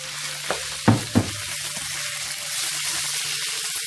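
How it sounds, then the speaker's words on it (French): Shrimp stir-fried in a pan with garlic and peppers for Cantonese-style shrimp, a steady close sizzle with a few sharp clacks from stirring utensils early on. "Là, on remet les crevettes dedans."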